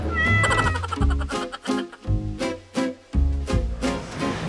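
Cat meowing repeatedly in close, loud, drawn-out calls, some rising into a caterwaul, over a musical backing.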